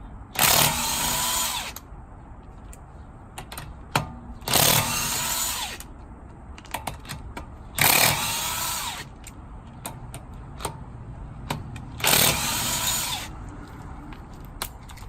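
Impact wrench zipping lug nuts off the front wheel of a Honda Civic Si, four loud separate bursts about four seconds apart, with faint clicks and handling noises in the quiet gaps.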